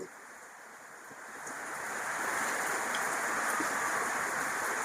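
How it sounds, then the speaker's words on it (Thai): Heavy rain falls steadily at an outdoor market during a shrimp-trapping outing, a dense broadband hiss that swells after the first couple of seconds and then holds loud and continuous with no voices. "นี่ฝนตกแรงด้วยวันนี้ฝนตกแรง"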